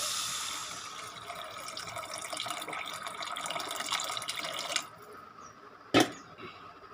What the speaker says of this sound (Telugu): చక్కగా ఫ్రై అయిపోయిన తర్వాత మనం చింతపండు రసాన్ని ఇందులో యాడ్ చేసుకోవాలి